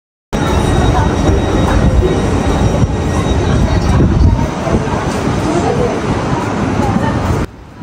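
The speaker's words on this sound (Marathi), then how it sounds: "बासेलवरून आम्ही सकाळी 10:30ची ट्रेन पकडली होती" Regional train running from Basel to Freiburg, heard from inside the carriage as a steady, loud rumble of wheels on rails with a faint high squeal, continuous throughout, with faint passenger chatter in the background.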